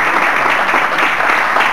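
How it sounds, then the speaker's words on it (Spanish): Loud, dense audience applause at a tribute gathering, a continuous roar of many clapping hands that holds steady throughout the short stretch, with no voices on top. "desde luego el aplauso de ustedes para Raúl Río de Mar."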